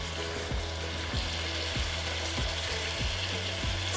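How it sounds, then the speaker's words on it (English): Pork burgers sizzling in hot oil in a pan, a loud continuous close frying hiss with soft regular thumps beneath it, no talk. "when you put it in, you wanna hear that nice sizzle"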